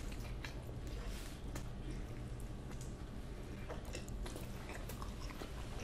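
Plantains are chewed up close during a mukbang, with wet, squishy bites and smacking over low background noise.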